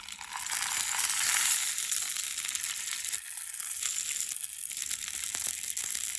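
Vegetarian sausages fry on a Trangia camping stove, giving a steady, fairly loud crackling sizzle that runs the whole time, with small pops and crinkly bursts and no talking.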